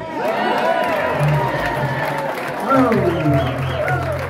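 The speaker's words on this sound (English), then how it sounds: "how about some applause for the jacket?" An audience at a live music show claps and cheers steadily for several seconds, a dense wash of applause with a person's voice briefly rising over it.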